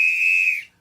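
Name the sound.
whistle imitated by storyteller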